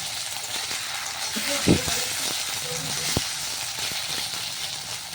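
Rice fries in a pan with chilli and ginger paste, giving a steady close sizzle broken by several utensil clatters and scrapes, with one sharp knock near the end.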